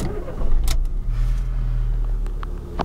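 A 2008 Fiat Palio's engine cranks and catches, then settles into a low, steady idle, close and clear with a few light clicks and no talking.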